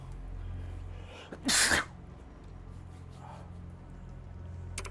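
One short, sharp sneeze bursts out in the video game Yakuza: Like a Dragon against a quiet background hum, brief and fairly close.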